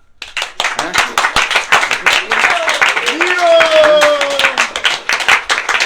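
An audience at a devotional gathering in the USA claps steadily and briskly, dense overlapping handclaps building to full applause, with voices calling out over the clapping.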